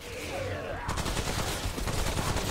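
Assault rifle gunfire in a video game boss fight: after a short quiet start, a sustained, rapid automatic burst rattles on continuously, loud and near.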